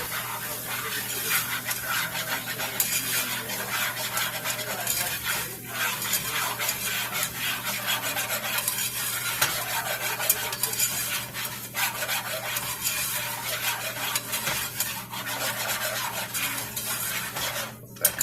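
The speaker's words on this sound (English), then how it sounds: "I just have a 1/4 cup of flour, and we're just going to get that whisked into this" Steady scraping and rasping of a whisk stirring a quarter cup of flour into melted butter in a pot for pot roast gravy, continuous and close with a faint background hum, no talking.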